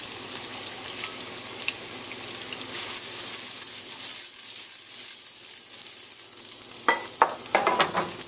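Garlic sizzles steadily in a hot pan alongside mussels being prepared, with a soft continuous crackle and a few sharp clinks and rattles near the end as the pan is tossed.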